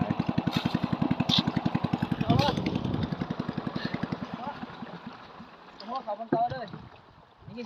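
A small engine chugs with a rapid, regular putter that fades away, leaving quieter background sounds and some voices.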